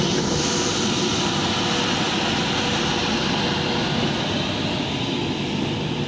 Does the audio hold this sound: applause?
no